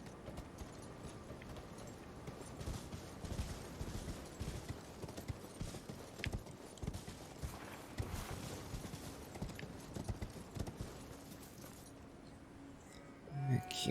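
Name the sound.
horse galloping in the video game Elden Ring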